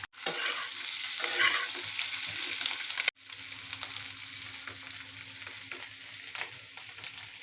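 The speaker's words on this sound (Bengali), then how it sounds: "এখানে এই যে স্কোয়াশ দিয়ে ছোটো মাছের তরকারি হচ্ছে" Small fish curry with squash frying and being stirred in a pan, a steady close sizzle with scraping stir sounds throughout, briefly cut off partway before the sizzle resumes alone.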